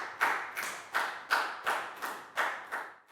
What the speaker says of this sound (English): And big round of applause for everyone doing a great job.